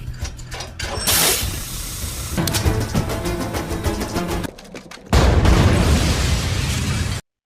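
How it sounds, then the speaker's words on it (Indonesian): A gas-pipe house explosion from the film The Bourne Supremacy: dense rumbling and crackling build, then a loud, sharp blast around the middle gives way to a sustained, roaring wall of debris noise that cuts off abruptly. "ketika anak buah Jarda tiba di lokasi ledakan pun terjadi."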